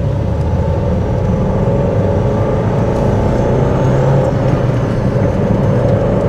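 A cheap, well-used Ford Fiesta with its engine management light flashing is driven at full throttle, giving a loud, steady engine drone and road roar heard from inside the car, with no talk.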